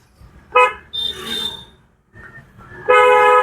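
A car horn honks twice nearby, a short toot and then a longer, louder blare, with traffic noise in between.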